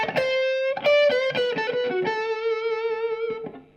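Blues lead guitar lick, played on the minor side of the box with a bend up and held, vibrato-laden notes; distorted electric tone, a quick run of picked notes followed by a sustained bent note, close and alone.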